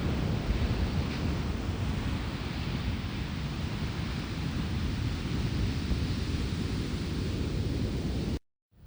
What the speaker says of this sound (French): Ah, les vagues de Nazaré.